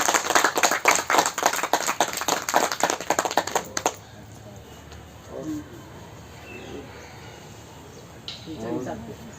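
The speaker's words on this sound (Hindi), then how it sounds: "एक बार जोर से आप लोग ताली बजाइए जरा सा।" Loud, rhythmic clapping from a yoga gathering audience at a Patanjali event welcoming district officials, strong and fast for about four seconds before stopping abruptly, followed by faint murmurs and a brief voice.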